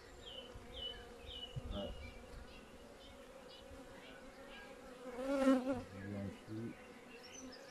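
Honeybees buzzing steadily around an open hive during an inspection. The hum is close and continuous and swells briefly near the end. A voice speaks French quietly over it.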